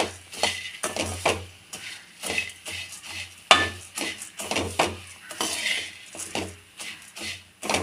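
Spicy puffed rice being stirred and tossed in a metal pan with a spoon, giving a steady rhythm of scraping clinks and rustles, close and fairly quiet.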